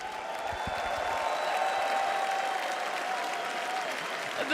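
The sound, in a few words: crowd applauding and cheering at Dota 2 International tournament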